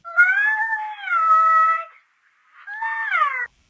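A Flareon plush toy's voice box lets out two cat-like cries, close and clear, with a brief pause between them and no talking.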